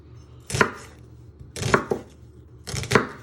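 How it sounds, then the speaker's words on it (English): Three distinct knife chops slice through an onion on a cutting board, spaced about a second apart, each a crisp, close thud-and-crunch with no voices. "So you chop down the middle carefully with your fingers."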